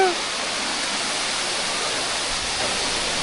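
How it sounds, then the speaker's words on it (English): Tumpak Sewu waterfall roars as a dense, continuous, broadband rush of falling water, loud and close, steady throughout with no pauses. "Oh, look at waterfall!"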